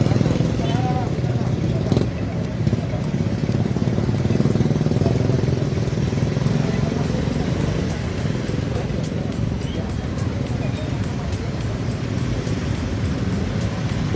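Steady broadband traffic rumble from motorcycles and cars turning back at the Batujaya bridge, with engines droning continuously and close by while people talk over it.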